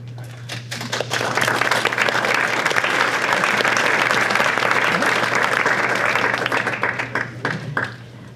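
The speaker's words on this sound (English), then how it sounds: "we'll welcome in Quin with a big round of applause" A live event audience gives a big round of applause, dense sustained clapping that builds quickly, holds steady, then thins into scattered claps, with a low steady hum underneath and faint talk.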